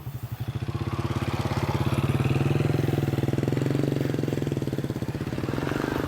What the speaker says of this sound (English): we'll let this motorbike pass